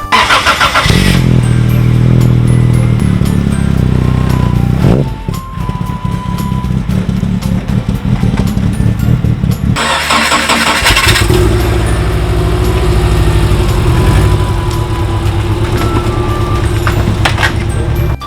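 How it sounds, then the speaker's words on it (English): An abandoned, accident-damaged 86 project car cranks and starts, then its engine runs loud and close, surging and revving in bursts as it is driven a short way to be parked. "let me park this car"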